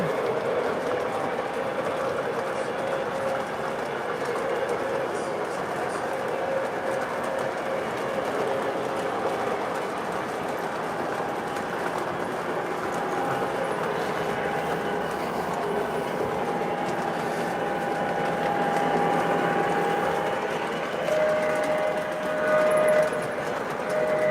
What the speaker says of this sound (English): This is a Legacy cab Ford. Pulling some 50s era freight.